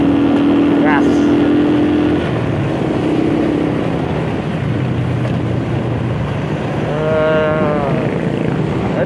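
Honda Supra motorcycle accelerating to overtake on a mountain road, engine whine rising and falling under steady wind roar, with other passing vehicle tones sweeping by up close.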